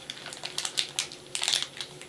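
A candy bar's slick plastic wrapper is torn open and handled, giving a quick series of sharp crinkles and crackles close by with no talking.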